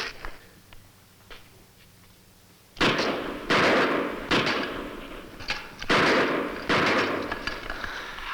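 Sharp gunshots crack out in a loose string of about six loud bursts after a quiet stretch, each with a short echoing tail, fired outdoors at close range.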